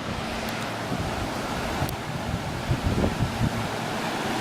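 Rushing water at a natural outdoor kayaking course in Golden, Colorado, a loud continuous roar of flowing current with some wind buffeting on the microphone.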